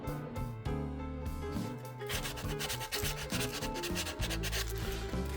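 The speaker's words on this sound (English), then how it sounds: "now we'll sand that off" Sandpaper rubbing steadily over hardened super glue on a 3D printed fishing lure, close and quiet, in quick back-and-forth strokes that speed up partway through.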